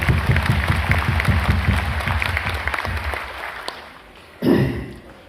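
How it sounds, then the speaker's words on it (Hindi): Audience applause at a Modicare demo gathering, steady dense clapping from a hall crowd that fades out, followed by one short loud burst. "एक बार उनके लिए ताली बजा दीजिए"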